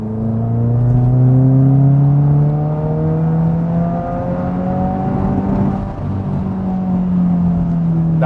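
A 2022 Subaru pulls hard in third gear from inside the car. The engine tone climbs steadily across the run as the car accelerates, and no one speaks.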